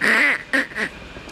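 A man imitates a duck's quack with his voice, giving three nasal quacks close to the listener: a long first one followed by two shorter ones.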